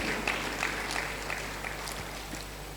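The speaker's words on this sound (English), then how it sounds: "A round of applause for these 13 clubs." A modest audience at a women's football tournament draw ceremony in Benin claps, with a soft, fairly quiet spatter of applause that holds evenly.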